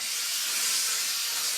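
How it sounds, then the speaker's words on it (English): Steam iron hissing as it presses a hand-woven cotton towel, a steady close high-pitched hiss lasting the whole moment with no voices. "You love all that steam."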